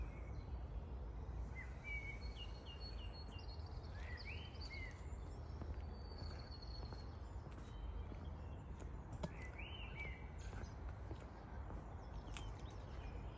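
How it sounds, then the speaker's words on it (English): Birds singing in the evening around an outdoor bonsai nursery, several chirps and warbled phrases scattered near and far over a steady low outdoor rumble. "The birds are still singing."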